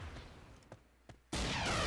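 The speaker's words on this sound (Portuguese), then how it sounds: "Opa, tomando um tiro não sei da onde." Gunfire sounds in the online shooter Point Blank. A couple of brief, muffled shots ring out, then a sudden loud, continuous burst of fire or blast fills the end.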